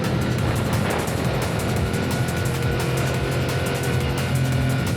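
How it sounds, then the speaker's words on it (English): Motorbike engine on a mountain ridge road of the Mae Hong Son Loop, a steady close drone as the throttle opens slightly, with constant wind rush and no talk. "Opening up the throttle a little bit here."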